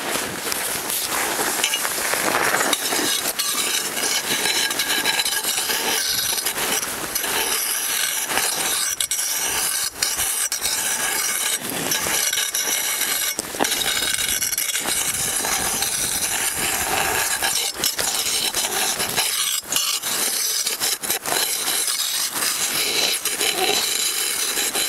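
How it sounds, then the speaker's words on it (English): An ice axe scrapes and drags across a snowy slope while sliding down the trail from North and South Hancock, a steady loud rasping that runs almost unbroken with a few brief dips. "I use the ice axe most of the way down just to control my speed"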